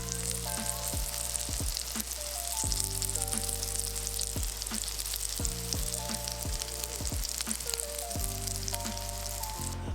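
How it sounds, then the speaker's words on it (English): Crappie fillets sizzle steadily in a saucepan, a dense continuous frying hiss that stays loud and close throughout, with no talking over it. "fillet is going in the saucepan now. Look at that simmer."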